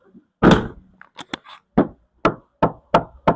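Knocks on a Suzuki XL7 body panel after sound deadening is installed give duller, shorter thuds, one heavy hit followed by several evenly spaced raps, close and without lingering ring.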